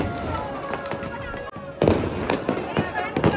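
Diwali fireworks and firecrackers burst in a city celebration, sharp cracks and pops sounding repeatedly and fairly close, with a constant tone early on and people talking and calling out throughout.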